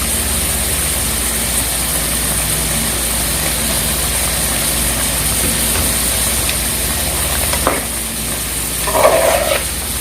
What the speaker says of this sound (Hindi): अब इसमें डाल देंगे दही, ये 1 कप दही का जो हमारे पास है।